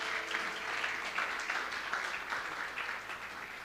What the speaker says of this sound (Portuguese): Eu daria até um aplauso para Jesus aqui